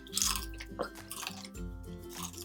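Close-up chewing of food, with moist crunching and squishy bites rising and falling over a steady tonal hum in the background, and no one speaking.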